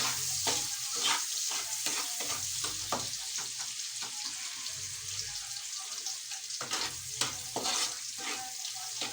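Onions sauté in a pan as the first step of a Filipino bagoong dish served with garlic fried rice. The frying crackles steadily at close range, and frequent spoon or spatula clicks and scrapes punctuate it.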